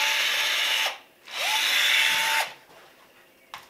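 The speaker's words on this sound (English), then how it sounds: "we are putting and pulling the first rivets" A power rivet tool pulls the first rivets on an aircraft horizontal stabilizer, making two loud, close whirring bursts of about a second each, then a brief third burst near the end, with quiet gaps between them.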